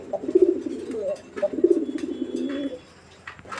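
A Rajgolla pigeon gives a few low, rolling coos close by, with short pauses between phrases, while someone talks in the background.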